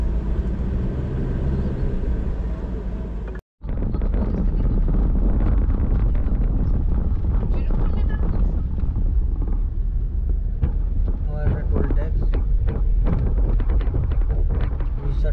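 A car travelling by road towards Puri from Kolkata, with a constant low rumble of engine and road noise and buffeting wind against the microphone, broken by one brief dropout near the start.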